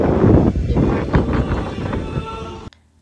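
Strong wind buffets the microphone in loud, gusty rumbles for a few seconds before cutting off abruptly, at the hilltop summit of Monte Maria in Batangas City.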